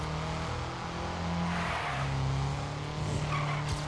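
A car drifting in the TrackMania 2 Valley racing game, its tires skidding in a long continuous squeal over a steady engine drone, loud and close, with no talking.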